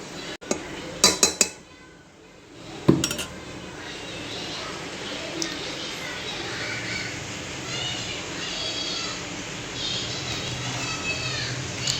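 Metal spoon scrapes and clinks against a cooking pot as pulao is stirred and mixed, with a few sharp clanks early on, then a softer continuous rustle of rice being turned, heard close up.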